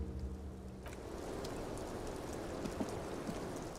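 Rain falling in the detective role-playing game Disco Elysium, a steady hiss of drops pattering on surfaces with occasional sharper ticks, soft and continuous without voices.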